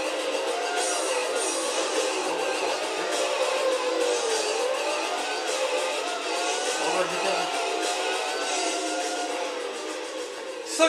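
Formula 1 race car engine in a Dreamcast racing game: a steady, loud synthesized engine whine rises and falls in pitch through the whole stretch, with gear-like sweeps.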